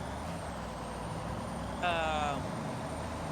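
A diesel truck drives along the road on the way to a tractor dealership. A steady low engine and road rumble runs throughout, with a brief high tonal whine partway through.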